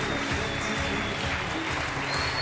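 A studio audience on a French game show applauds a winner, dense continuous clapping filling the room at a steady level throughout.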